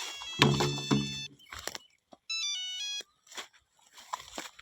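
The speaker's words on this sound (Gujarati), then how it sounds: "બરાબર જો ફોન આવ્યો" A phone ringtone sounds in a Gujarati comedy scene, a loud electronic melody with steady repeating tones that plays for about a second, stops, then resumes amid thumps and brief voices.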